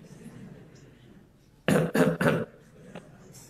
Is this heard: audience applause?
no